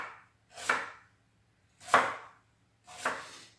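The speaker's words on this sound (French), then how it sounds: "on peut émincer ça très finement" Three separate knife strokes slice through fennel on a cutting board, each one a crisp crunchy cut with a pause between, close and clear with no talking.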